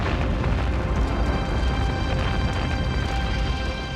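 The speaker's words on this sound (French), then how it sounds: "L'explosion qu'il envoie au fond est si forte qu'on l'entend à 35 km" Napoleon's flagship blows up at night in Aboukir Bay, a massive warship explosion heard as a dense, loud, continuous rumbling roar with crackling bursts that fills the whole stretch without letup.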